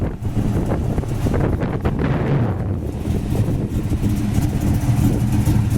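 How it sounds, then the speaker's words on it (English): Heavy wind on a rainy day roars and buffets the microphone continuously, a dense, steady rush with no pauses. "It's kind of a crappy, rainy, windy day today"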